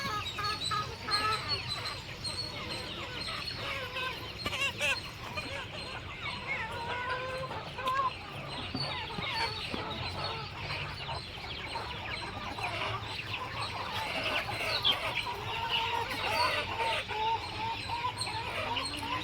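A village farm flock of chickens, expecting feed, clucks and chatters continuously for about nineteen seconds, many birds close together and fairly loud.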